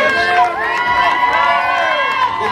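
A roadside crowd cheers and shouts for marathon runner Lauren Bosworth as she finishes the Music City Marathon. Voices rise and overlap continuously, close and loud.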